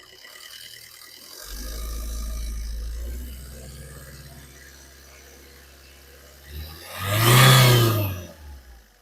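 2013 Maruti Swift Dzire VDI diesel engine running with a low hum and mechanical whir, which swells into a louder, brief rev near the end.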